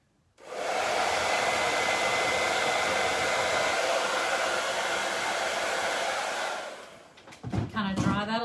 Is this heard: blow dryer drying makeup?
yes